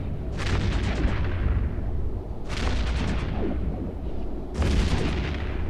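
Three heavy artillery barrages from a ship's weapons in the EVE Echoes space combat game, each a loud booming burst of rapid thuds that decays over about two seconds, evenly spaced with no talk.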